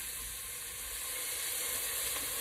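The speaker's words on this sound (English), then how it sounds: "we're going to saute our onions just until they start to become translucent" Onions sautéing in a splash of veggie broth over medium heat give off a steady, even sizzling hiss with no voices.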